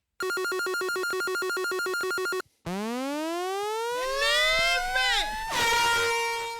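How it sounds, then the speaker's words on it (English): A loud, pulsing air horn blast from an SP404 sampler stutters rapidly, then a rising siren-like sweep swoops upward with echoing, layered tones, like a dub sound effect. "The SP404 is loaded with generic dub sound effects."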